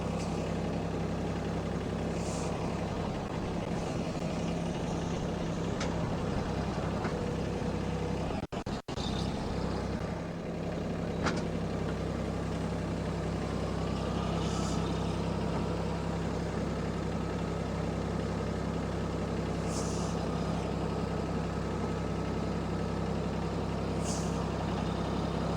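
A Mahindra tractor pushes snow with a homemade plastic-lumber cutting edge on its blade. A steady, continuous engine drone carries under a faint scraping rumble, with a brief knock partway through and no voices.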